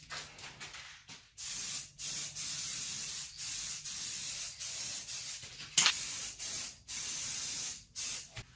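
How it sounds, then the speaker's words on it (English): Valspar gold aerosol spray paint hissing onto a dresser in repeated short bursts, steady close hiss broken by brief pauses, with no voices. "This is Valspar's gold out of an aerosol can."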